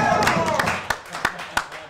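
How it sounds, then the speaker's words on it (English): A few sharp, separate claps ring out clearly after a burst of speech, as an audience at a live radio broadcast from a bar on Coastal Highway in Ocean City applauds. "I have to wait until all the clapping's over with because I can't talk over that."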